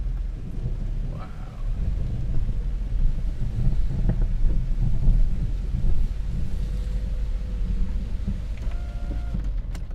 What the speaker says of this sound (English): big lightning and thunder